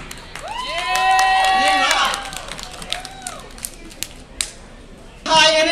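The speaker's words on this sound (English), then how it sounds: "Give us a round of applause," A cabaret audience at a casino show cheers with high whooping shouts, followed by scattered claps and a final burst of noise, with a voice talking in between.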